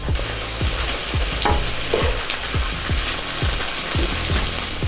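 Garlic sautéing in a pan for bacon jalapeño mac and cheese, a steady sizzle broken by regular scraping strokes of a stirring utensil, close and without talk.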